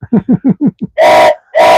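A whistle gives a burst of short, sharp chirps, then two long loud blasts with a brief pause between them, close and piercing, heard without talk.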